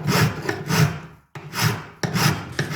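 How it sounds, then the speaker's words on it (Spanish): Coarse-grit file rasping along a 925 silver rod to raise coarse filings, three or four long, loud, gritty strokes close up with short gaps between passes. "limando el tarugo con una lima de grano grueso, buscando obtener esta limadura gruesa"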